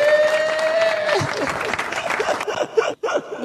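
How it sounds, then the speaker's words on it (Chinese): Studio audience applause on a Chinese-language livestream, a steady wash of clapping with light chuckles mixed in, fairly close, that breaks off abruptly near the end. "掌声鼓励"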